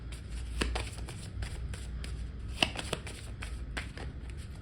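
Angel Answers tarot cards are shuffled close by, soft riffling and flicking with light taps and snaps in an uneven rhythm, quiet and alone.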